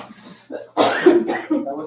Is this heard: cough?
yes